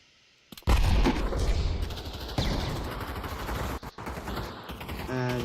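Sharp bursts of gunfire in a competitive VR shooter match, rapid cracks and rattles running almost continuously at close range after a quiet opening, with a short break near the end.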